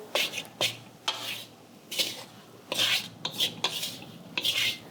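Ground chana dal being stirred as it fries in ghee in a wok on medium-low heat: repeated rhythmic scraping strokes of a spatula across the pan, close and fairly loud, with a faint sizzle between the strokes.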